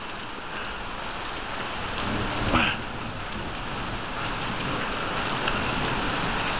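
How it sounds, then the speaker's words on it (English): Heavy rain pours steadily during an August thunderstorm in Chippewa County, Michigan, a dense continuous hiss of drops on surfaces with no voices. "It's a pretty strong rain."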